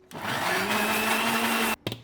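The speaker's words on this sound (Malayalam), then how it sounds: "നന്നായിട്ട് വെള്ളം ഇല്ലാണ്ട് മിക്സിയിൽ അടിക്കാം." A mixer grinder blending Priyoor mango pieces without water whirs loudly and steadily for nearly two seconds with a high motor whine, stops abruptly, then gives a brief second burst.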